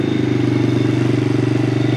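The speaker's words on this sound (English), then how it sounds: "This exhaust does sound good though. Right now we still have the baffle in it." Honda Grom clone motorcycle with the exhaust baffle still fitted, running steadily nearby with a loud, even low exhaust drone and rapid pulsing throughout, no voices.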